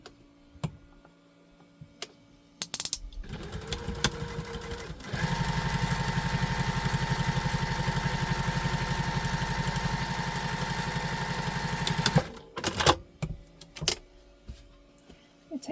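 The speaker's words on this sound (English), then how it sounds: "Now we're going to top stitch." A sewing machine top stitches a tote bag: a few short starts, then one long even run of about seven seconds, ending in clicks and handling sounds.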